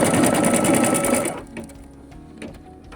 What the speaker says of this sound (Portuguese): A máquina, então, fez aqui o ponto de fixação.